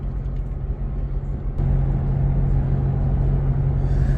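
A truck engine runs with a steady low rumble heard from inside the cab, stepping up slightly louder partway through and holding a constant drone.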